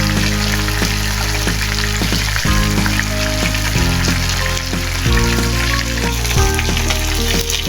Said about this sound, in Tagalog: Iprito muna natin itong tilapia. Ayan guys, prituin natin ito hanggang sa mag-brown.